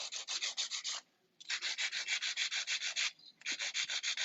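A nail file shaping fingernails during a manicure, heard as three long runs of quick, even rasping strokes close by, separated by brief pauses.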